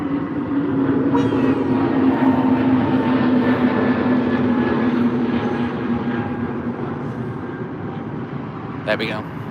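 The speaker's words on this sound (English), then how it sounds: "British Airways again off to Berlin on the A320" A British Airways Airbus A320 takes off from Heathrow for Berlin, its engines a loud, steady roar with a droning whine that slowly eases. A voice talks over it near the end.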